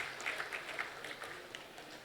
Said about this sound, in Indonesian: Berikan tepuk tangan kepada Bapak Herman Deru